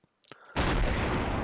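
A heavy ACF cannon in Garry's Mod fires once with a huge, loud boom that rolls on as a sustained roar, following a few faint clicks.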